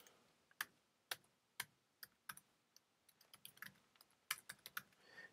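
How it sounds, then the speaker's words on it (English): Typing name and email address on a computer keyboard: scattered, close, crisp key clicks in uneven bursts with short pauses, no voices. "type in my name and email address"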